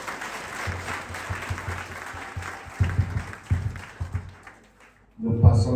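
A church congregation breaks into applause for the Lord, several bursts of clapping with a few voices rising, then talking resumes near the end.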